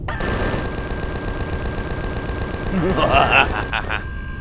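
Bursts of gunfire in the space-survival video game Empyrion crackle over a steady game hum, with a rapid cluster of shots toward the end.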